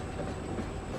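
A train in the video game Foundry rumbles along, producing a steady, close mechanical roar and rolling noise with a constant high whine and no pauses.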